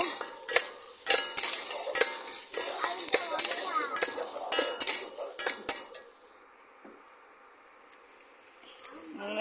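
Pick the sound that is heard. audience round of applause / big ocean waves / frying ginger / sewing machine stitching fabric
frying ginger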